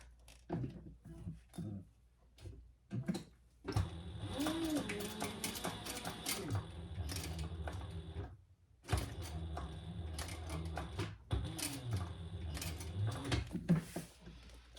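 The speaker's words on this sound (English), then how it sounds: "And then sew across the top." Sewing machine stitching across the top of a Magnolia wallet, bursts of rapid mechanical whirring in two main runs separated by a brief pause, close and fairly quiet, preceded by a few handling clicks.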